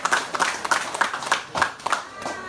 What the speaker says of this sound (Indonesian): Jadi beri tepukan kepada pasukan keselamatan kita.